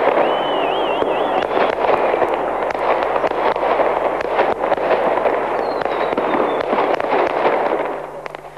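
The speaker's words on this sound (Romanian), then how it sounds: "discurs al demisionarului Boris Yeltsin, după care au deschis sticlele de șampanie și au lansat petarde." Dense crackling firecrackers and fireworks pop and burst continuously at a New Year's midnight celebration in Red Square, Moscow, with a faint whistle rising over the din.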